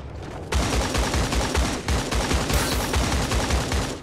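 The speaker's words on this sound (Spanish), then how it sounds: "está cayendo el ataque aéreo y me están disparando de ahí" Dense, loud automatic gunfire from a battle royale shooter game, with rapid overlapping shots rattling continuously and only brief dips, like a sustained firefight during an air strike, with no one talking.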